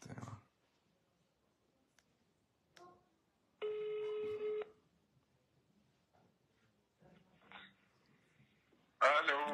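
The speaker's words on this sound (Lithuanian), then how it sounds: "dar pabandom paskambinti tą Islandiją" A telephone call is dialed and rings through: a steady electronic ring tone, about one second long, sounds after scattered clicks and faint noises. A brief louder burst of sound comes at the very end.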